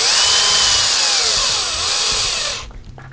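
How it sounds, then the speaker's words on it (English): Power driver sinking a self-tapping screw into an RC buggy front assembly, a loud, close, high whirring whine with shifting pitch that cuts off abruptly near the end, followed by small handling noises. "This outer one uses a self-tapping screw."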